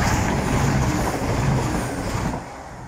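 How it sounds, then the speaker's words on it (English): An East Midlands Railway train passes through Attenborough station on the Midland Main Line, a loud, close rumble with rail clatter that holds steady and then eases slightly as it goes by. "Passing through now, we have an East Midlands Railway service"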